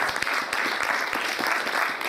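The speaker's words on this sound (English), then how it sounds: "I think For Life deserves a round of applause for that." Applause from a crowd at a business presentation, a dense clatter of many hands clapping that holds steady at moderate loudness the whole time.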